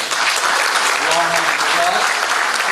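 Warm, dense applause from a luncheon audience at a mining industry event, steady and loud with a murmur of voices blended in.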